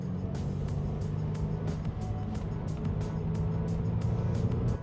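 A 1980s Porsche 944 Turbo with front-engine, rear-drive transaxle layout pulls hard under acceleration, giving a steady, close engine roar with a rapid pulsing rhythm that builds toward the end.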